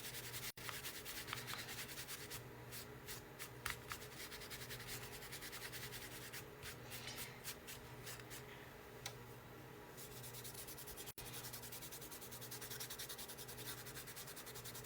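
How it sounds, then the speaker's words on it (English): A wooden spring insert is sanded by hand in steady back-and-forth strokes, a soft, rhythmic scratchy rasp that stays faint and close, with brief pauses between passes. "And then I'm going to sand it again and call it good."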